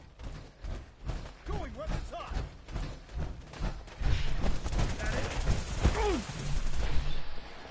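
Bursts of gunfire in the video game Fallout 4, a series of sharp close shots and rapid volleys that grow denser and louder partway through, mixed with thuds.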